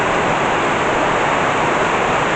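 Rainwater pours and rushes down steadily during a thunderstorm in Burgos, a dense, loud, unbroken hiss of running water close by.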